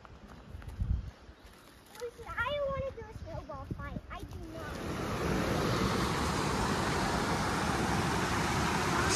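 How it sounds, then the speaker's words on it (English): A small waterfall's running water in Sequoia National Park fills the scene as a steady broadband rush, rising and holding loud after a few seconds, with birdsong and other faint sounds early on. "A little waterfall."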